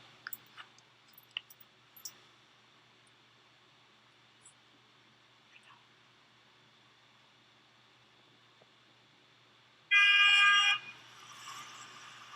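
A quiet stretch with a few faint clicks gives way to one loud car horn honk, lasting under a second, before the background settles again.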